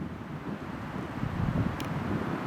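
Wind rushes through pine trees on a trail: a low, continuous rushing roar with microphone buffeting, swelling slightly midway, with no talking.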